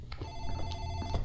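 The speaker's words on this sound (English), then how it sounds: "The phone, quick! I think that's the phone." Telephone ringing in the video game Dark Fracture, a morgue setting: a steady electronic ring with sustained tones runs through the whole moment over a low background hum, fairly loud and close, with no speech.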